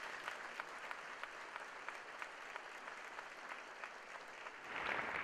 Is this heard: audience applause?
yes